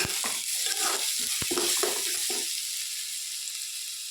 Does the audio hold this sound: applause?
no